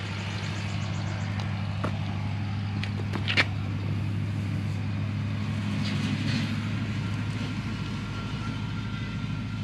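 A Honda XR400 motorcycle engine idles, holding a low, steady hum throughout with a few faint clicks and knocks on top and no voices.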